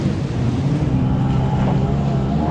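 A banana boat towed by a motorboat on open sea off Pattaya, the engine drone and rushing water loud and continuous, buffeted by heavy wind noise against the microphone.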